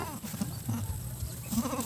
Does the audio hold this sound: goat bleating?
yes